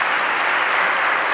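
An audience at a talk breaks into steady, dense applause, loud and close, with no voices over it.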